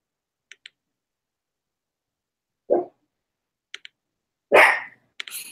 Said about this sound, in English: The dog. He's like, yes, I need to bark.